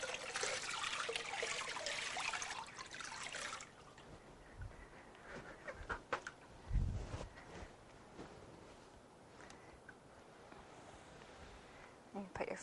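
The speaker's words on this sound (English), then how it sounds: "And pour this cool water on his feet." Cool water is poured over a person's feet and trickles onto a towel during a hydrotherapy treatment, a soft splashing stream followed by quieter drips and dribbles at low volume.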